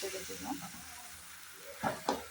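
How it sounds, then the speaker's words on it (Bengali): Cauliflower and mixed winter vegetables fry in a pan with a faint, steady sizzling hiss. Two brief stirring scrapes stand out near the end. "ভালোভাবে ভেজে নেব"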